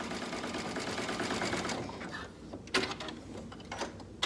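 A sewing machine runs a zigzag stitch over pieces of fabric, first as a fast, steady mechanical whir, then it stops and gives way to a few scattered clicks and handling knocks.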